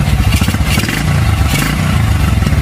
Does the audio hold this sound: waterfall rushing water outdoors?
no